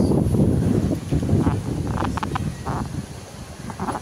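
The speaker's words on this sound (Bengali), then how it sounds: "দেখেন কি বাতাস।" Strong wind buffets the microphone in low rumbling gusts, with faint rustling and brief higher-pitched sounds in the background.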